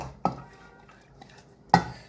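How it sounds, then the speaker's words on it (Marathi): Washed chana dal and toor dal being tipped into a pressure cooker while cooking dal bhaji, heard as two sharp metallic clatters of pot and utensil about a second and a half apart, with quiet scraping between them. "ही डाळ टाकायची आधी शिजायला कुकरमध्ये"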